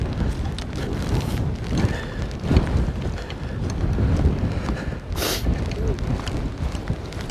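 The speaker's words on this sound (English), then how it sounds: "it's getting cold because of this wind that we're getting" Cold wind blowing across open moorland near Withypool, Somerset, a steady loud rush and buffeting against the microphone throughout, with brief gusts and faint background movement.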